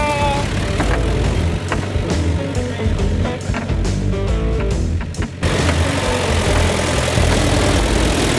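A Daihatsu Scat 4x4 engine, a barn find revived after 15 years, pulls steadily in second gear with a continuous close, loud drone and rough mechanical rattle, briefly dipping before carrying on.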